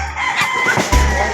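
A rooster crows loudly and close by at a poultry breeding farm, a single short call that swells at the end, with farm background noise around it.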